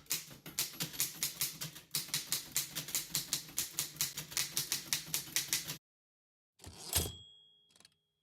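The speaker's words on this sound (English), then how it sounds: "The typewriter sprang back to life under his skilled hands." Old mechanical typewriter clacking in quick, regular keystrokes for several seconds with a brief pause, then a carriage return and bell ring near the end, close and clear.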